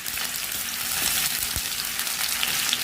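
Spices such as fennel, cumin and cardamom sizzle and crackle in hot oil as onions go into the pan, a steady close frying hiss with no talking.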